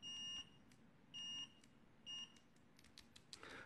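An ANENG XT82 pocket multimeter gives three loud continuity beeps, each roughly a third of a second long with short gaps between them, followed by faint clicks and handling noise. No one speaks.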